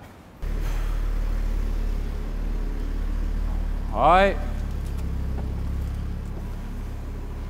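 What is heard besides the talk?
Audi RS3 Sportback exhaust sound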